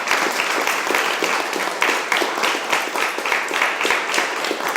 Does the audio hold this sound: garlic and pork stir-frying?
no